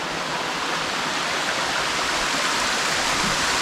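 A waterfall on the Roan Highlands trail roars in a steady, dense rush of white water, close and continuous with no voices over it.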